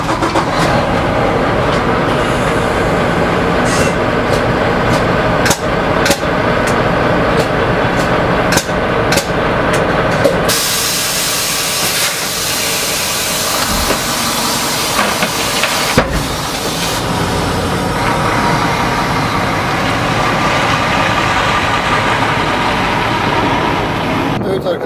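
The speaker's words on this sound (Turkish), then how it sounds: "Bundan sonra aracı ileriye alıp gidebiliriz." A Volvo VNL780 truck pulls forward away from its dropped trailer, its engine a steady broadband rumble with sharp clanks and knocks early on, then a loud air hiss rising midway and continuing throughout.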